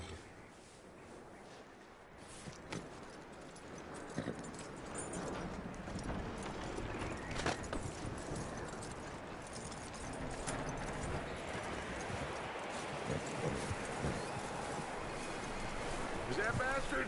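Horse hooves clip-clopping in Red Dead Redemption 2, a steady walking rhythm over wind and outdoor ambience, mid-distance and moderately quiet, with voices talking at times over it.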